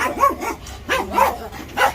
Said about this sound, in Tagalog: Ang dami aso. Yan, mabait yan.